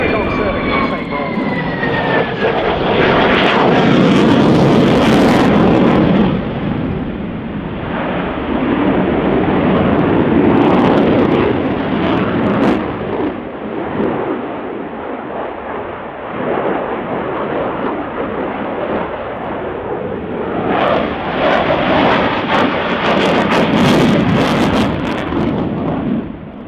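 Ukrainian Air Force Su-27 jet flying at the RIAT 2018 airshow, a loud rushing jet roar that swells, eases and swells again as the fighter passes, with faint crowd voices mixed in.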